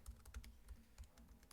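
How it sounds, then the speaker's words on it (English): Fingers tapping on a computer keyboard at a workshop, a quick irregular run of soft clicks, faint and close, with no voices over it. "Oh, good typing."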